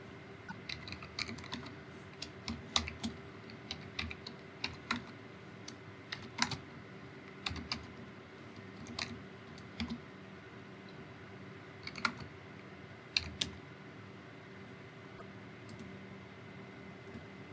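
Keys clatter on a computer keyboard in short irregular bursts of crisp clicks over a soft fan hum, faint and close, with no voice.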